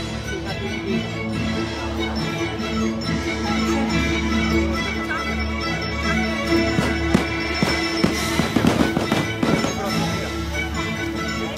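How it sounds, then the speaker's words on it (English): Fireworks during the New Year's Eve show at Epcot, heard as distant booms and crackling bursts that build toward a dense cluster of pops near the end, set against steady crowd murmur. "And then China firework."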